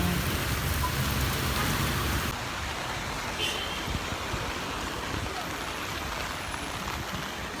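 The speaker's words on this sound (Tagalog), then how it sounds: "Grabe kaulan guys." Heavy rain pours down steadily in the Philippines, a dense, loud hiss filling the whole stretch with no pauses and a slightly thicker roar at the start.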